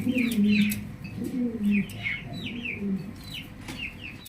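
Pigeons coo softly in low, repeated calls, with faint chirps and rustling nearby, no voices.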